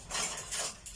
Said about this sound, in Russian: я сейчас прополоскаю посуду